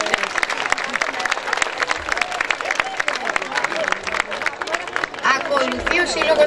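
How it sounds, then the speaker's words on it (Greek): Audience applause for a dance group from Thrace at a folk dance performance: a dense, steady wash of many hands clapping, loud and sustained throughout, with crowd murmur mixed in. "Χειροκροτήστε τους ευχαριστούς."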